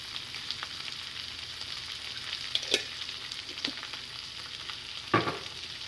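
Banana flower curry with grated coconut frying in a pan, a soft steady sizzle with a few sharper clatters of stirring, no speech.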